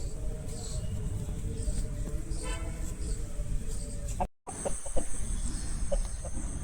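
A young Bhimavaram breed rooster of the mettavatam type clucks and calls softly at a farm, short scattered clucks over steady outdoor background noise, fairly close.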